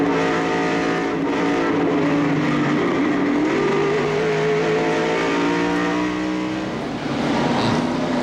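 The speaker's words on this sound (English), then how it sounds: "From the in-car, look and listen to Rusty Wallace's spin" Rusty Wallace's NASCAR Winston Cup race car spins out at Bristol, heard from inside the car in 1995: a loud, continuous engine roar with shifting pitch as the car slides around, no voices.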